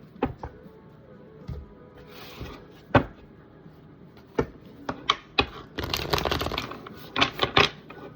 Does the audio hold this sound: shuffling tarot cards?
yes